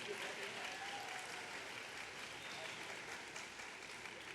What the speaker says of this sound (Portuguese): Pode dar uma salva de palmas.